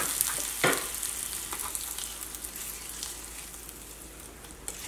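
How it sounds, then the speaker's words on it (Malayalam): Hot tempering stirred into beetroot pachadi for an Onam sadya, a steady close sizzle with a sharp spoon scrape or clink early on and faint stirring crackles after; no talk. "ഞാൻ ചൂടോട് കൂടിയിട്ട് തന്നെ ഇളക്കി കൊടുക്കട്ടെ."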